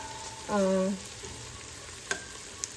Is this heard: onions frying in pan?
yes